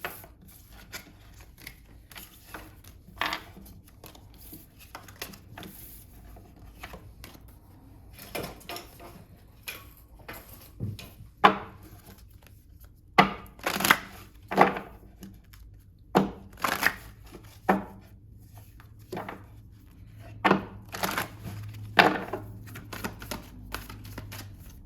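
Oracle cards being shuffled and handled on a table, soft riffling and scattered sharp taps and snaps that grow busier over time, close and quiet with no one talking.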